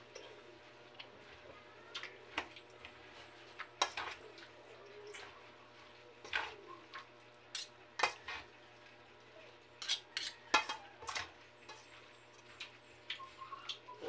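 Food being stirred in a pan gives faint, irregular clinks and scrapes of a utensil against metal. The taps come in uneven clusters over a low, quiet background.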